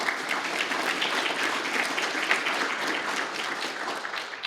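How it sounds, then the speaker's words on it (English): An audience at a policy dialogue event applauds staff and organizers, with steady, dense clapping sustained throughout at moderate volume and no talk over it. "please join me to give a nice USF round of applause for"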